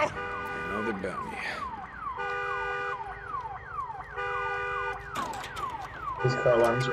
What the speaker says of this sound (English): These car alarms are so annoying.